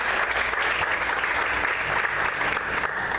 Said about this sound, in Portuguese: Você pode aplaudir o Senhor e glorificar a Deus por isso. Mais fortes palmas, amém, queridos?